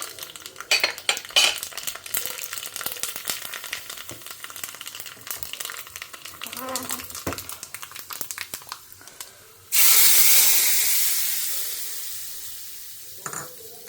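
In a home kitchen, mustard and fenugreek seeds hit hot oil for a radish and drumstick sambar tempering. Light utensil clinks and stirring come first, then a sudden loud sizzle that slowly fades, with no talking.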